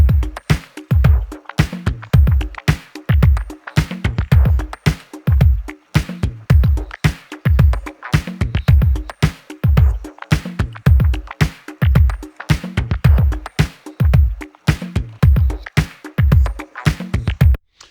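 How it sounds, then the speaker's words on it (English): Unprocessed drum kit part in Logic Pro, plain and dry, playing a steady repeating groove of punchy kick and snare hits with bright cymbal taps throughout, loud and close with no voice over it. "Here are the same drums, no processing on them"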